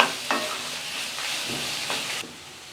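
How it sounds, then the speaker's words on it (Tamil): Two medium tomatoes, finely chopped, sautéing in a pan for spicy kara chutney, a steady close sizzle with a few stirring scrapes. "பொடிசா கட் பண்ண 2 பெரிய தக்காளி மீடியம் சைஸ் இருக்கும் இதையும் சேர்த்துட்டு நல்லா மசிஞ்சு வர்ற அளவுக்கு வதக்கி விட்டுக்கலாம்"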